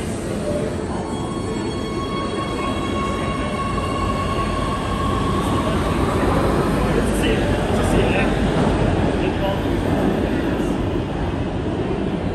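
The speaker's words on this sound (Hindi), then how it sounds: "ये रेलवे स्टेशन है वापसी का।" A train in a railway station in Oslo at night in December, a steady loud rumble with faint wheel squeal and tones, continuous throughout, with voices and station noise mixed in.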